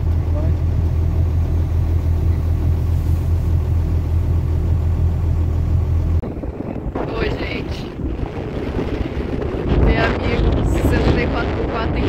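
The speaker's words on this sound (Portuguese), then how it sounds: "Vocês ouviram o que eu falei com esse tanto de vento que tem." Strong wind on a sandy beach buffets the microphone in a loud, steady roar that shifts into harsher gusty rumbling partway through, with people talking under it.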